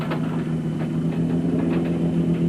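Ford Ranger race truck engine in a desert off-road race, a steady low rumbling drone with a constant mid-range hum, close and continuous with no talk.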